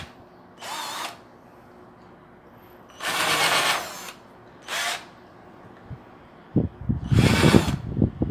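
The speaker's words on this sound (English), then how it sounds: "I want to use this drill as a countersink drill" A Lomvum 12V budget cordless drill fitted with a countersink bit whirs in four short bursts of about a second each, the last one rougher and louder as the bit bites into the workpiece.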